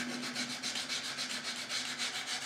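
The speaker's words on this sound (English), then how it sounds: "It's just a little bit rough, so I'm just going to sand it a little bit more," Sandpaper rubs gently along the rough edge of a cradled wood watercolor panel in steady, even back-and-forth strokes, close but quiet and uninterrupted.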